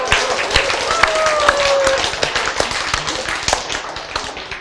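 Live audience clapping in a hall, a dense steady patter of many hands lasting throughout, fairly loud and close, with cheering voices mixed in and a brief whistle-like tone partway.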